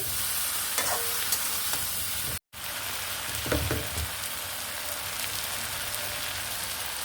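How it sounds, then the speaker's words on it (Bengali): Spices with chaat masala being stirred in a frying pan: a continuous sizzle with scraping and stirring taps, brief silence midway, no talk. "এখন দিয়ে আর একটু নেড়ে নিব"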